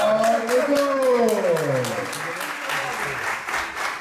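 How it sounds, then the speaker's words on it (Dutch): The crowd at a kickboxing event applauds after the bout ends. The clapping is loud and continuous, and someone speaks over it through a microphone while the applause carries on underneath. "Geef een applaus voor de mooie technische partij, jongens."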